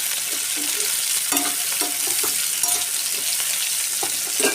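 Boiled raw banana pieces fry in a pan under a steady sizzle, with a spatula scraping and tapping against the metal in an uneven stirring rhythm, close by.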